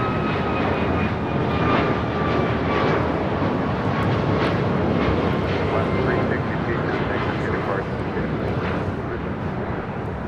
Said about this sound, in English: Alaska Airlines 362 taking off to Fort Myers on the MAX 9.